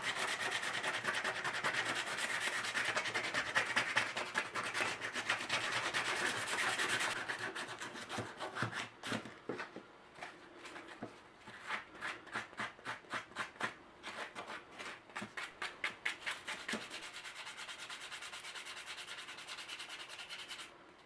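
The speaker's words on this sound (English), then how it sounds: "I've got a chair because I got a lot of sanding to do" Wood is rubbed with sandpaper by hand: a continuous scratchy rasp at first, then a run of distinct back-and-forth strokes, quiet and close.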